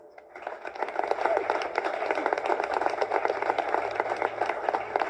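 An audience applauds for Professor Manson, a steady dense patter of many hands clapping that starts quietly and swells into sustained moderate applause in a large room.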